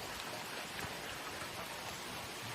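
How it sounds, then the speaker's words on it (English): Rain falls steadily on a summer day at an off-grid tiny home, a soft and even hiss of drops throughout with no voices. "it's too rainy"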